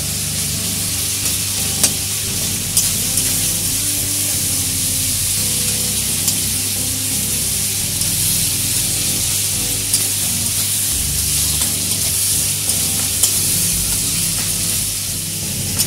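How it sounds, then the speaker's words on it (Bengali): Tomatoes frying in a pan as street-fair ghugni is prepared, with a steady loud sizzle and hiss running throughout, broken by faint scraping of stirring; no talking. "এখানে টমেটোটা ভালো করে আমরা দেখতে পাচ্ছ ভালো করে ফ্রাই করে নিয়েছি"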